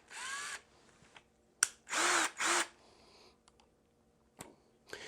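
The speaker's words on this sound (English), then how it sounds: "I'm going to start out with a very small 1/18 drill. And I'm just going to slowly drill it through the hole here." A small 1/18 drill bit slowly bores a pilot hole through an expensive motorcycle saddlebag, heard as two or three short, high-pitched whirring bursts separated by quiet pauses and faint handling clicks.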